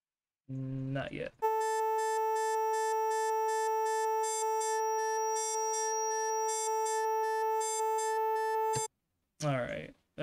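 An additive synthesizer holds a steady, harmonically rich tone that pulses rapidly like an alarm clock, loud and sustained for several seconds between short bursts of other synth sounds.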